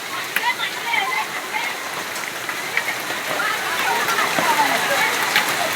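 Rain and hail fall together: a steady wet patter dotted with sharp ticks and clicks from hailstones striking surfaces, while people talk close by.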